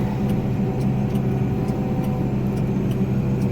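A farm vehicle hauling chopped corn silage drives up to dump its load, its engine a steady, loud, close rumble throughout with faint high clicking ticks above it.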